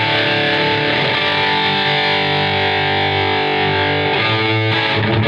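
An electric guitar plays through a Blackstar amp on its classic voicing, giving a Marshall-like crunch. Sustained distorted chords ring loud and close, with a brief pick scrape near the end and no speech.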